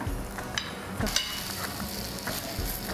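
Food pan-roasting in a hot pan on a Marathi cooking show, a steady soft sizzle with brief scraping clatters as it is stirred and turned over.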